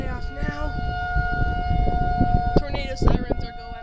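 Outdoor tornado siren wailing as a long steady tone in the distance, heard through rainy surroundings while people talk nearby.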